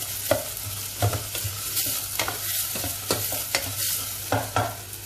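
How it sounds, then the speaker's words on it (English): Food is stirred in a hot pan on a gas stove while making chicken parmigiana: repeated scraping strokes of a utensil against the pan in a steady rhythm over a continuous close sizzle of frying. "So we'll stir that up a bit."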